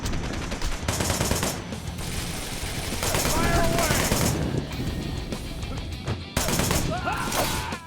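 Gunfire from the video game Wanted: Dead, with dense bursts of automatic shots and sharp cracks running almost without pause, loud and close, with short breaks between volleys.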